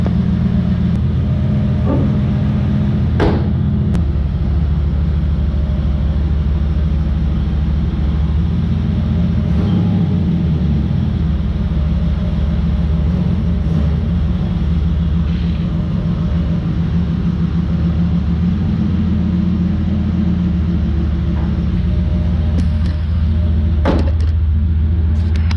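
A car with a freshly rebuilt LT-1 engine drives along, its engine a loud, continuous low rumble with road noise and a few brief knocks throughout.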